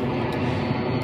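Broadband engine roar of an airplane passing overhead, a steady loud drone filling the whole second with no talk over it.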